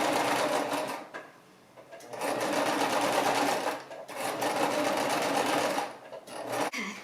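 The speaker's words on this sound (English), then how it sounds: "We're going to match our seams up here at the top, and we are going to sew this piece in." A sewing machine stitches a baby hat in loud, close bursts, running steadily with brief slowdowns and pauses between passes, with no talk over it.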